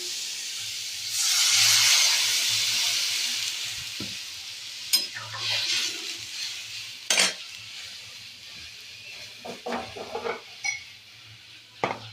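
A spoon stirs turmeric and salt into food in a pot, opening with a loud sizzling hiss that fades, followed by scattered clinks and scrapes of the utensil against the pot.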